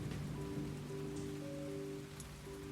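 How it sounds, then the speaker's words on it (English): Steady, soft rain patters on a surface as a constant, even wash of sound with a faint low hum underneath and no voices. "As the rain began to die down"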